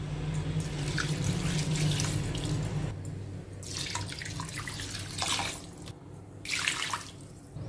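Measured water for chicken biryani poured steadily into a cooking pot, a continuous close splashing rush that thins and breaks into a few uneven gushes toward the end.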